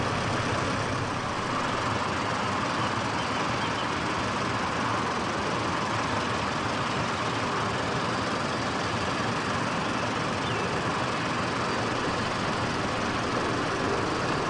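A tractor engine runs steadily at a ploughing match while the tractor and plough are positioned at the start of a plot, giving a continuous, even drone with no pauses and no talk.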